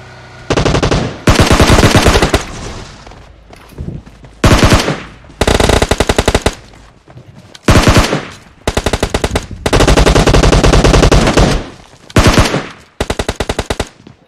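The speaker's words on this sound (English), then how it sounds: "I'm shooting." Automatic gunfire from the mobile battle-royale game PUBG Mobile, loud repeated bursts of rapid shots separated by short pauses, with no talking.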